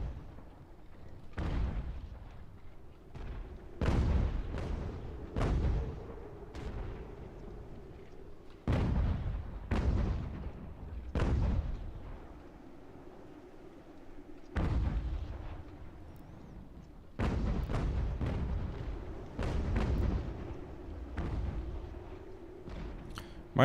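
Booming cannon fire from a battery of 3-pound galloper guns in the strategy game Ultimate General: American Revolution, with about a dozen heavy reports in irregular bursts, each followed by a rumbling tail, over a faint steady background drone.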